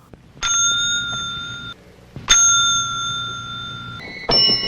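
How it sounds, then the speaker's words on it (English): A small hand bell, in a film scene, rings in three distinct bright strikes, each leaving a clear sustained metallic tone that decays slowly, with faint room noise between rings and no speech. "he just sits there ringing a bell for no reason whatsoever"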